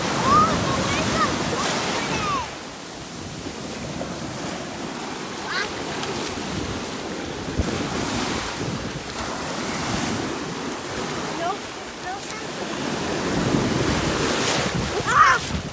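Wind gusting across an open beach with surf rolling in behind it, a continuous breathy rush that swells and eases, with faint voices now and then.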